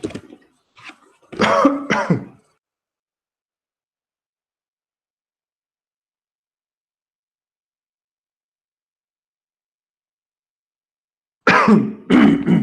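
A person coughs and clears their throat a few times in quick bursts near the mic, followed by a long stretch of silence and another brief burst at the end.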